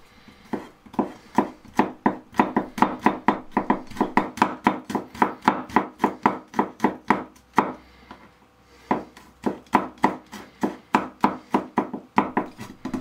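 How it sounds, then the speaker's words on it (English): Garlic is finely minced with a knife on a board in fast, steady chops, close and crisp, running continuously with only a couple of brief pauses and no talking. "Smash the garlic, peel it, and finely mince it."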